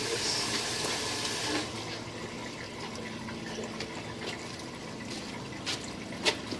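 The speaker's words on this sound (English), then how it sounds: "we've got some water churning right here" Water churns and gurgles inside a cast iron drain line, a sloshing rush at first that settles into drips and small splashes, heard up close without talk.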